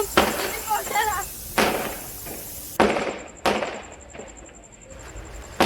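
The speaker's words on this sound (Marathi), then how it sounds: "माहिती नाही गाईज, अचानक फटाके कुठून वाजायला लागले." Firecrackers bang outside during an evening home barbecue party, giving sharp scattered cracks over a steady background hiss while people talk nearby.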